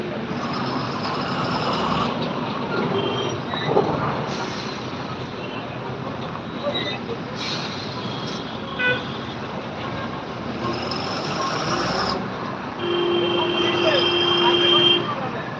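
Heavy trucks and a tanker grind along the Khambatki Ghat mountain road toward Pune and Mumbai, traffic disrupted by a broken-down tanker, a steady loud engine rumble with passing vehicles and brief horn toots, while someone talks over it.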